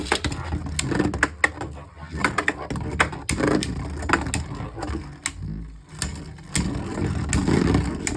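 Hasbro Beyblade Burst spinning tops, including Rip Fire Kerbeus, whir and clatter as they battle in a stadium after launch, with a dense run of sharp metallic-plastic clicks and collisions and no talk.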